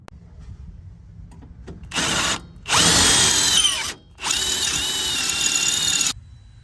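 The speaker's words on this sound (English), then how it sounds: "I want to put a little twist in these angle irons to match that, and then drill it and bolt it." A power drill bores through steel angle iron in three bursts, the first short and the next two longer, with whining high-pitched cutting and brief pauses between, close and loud.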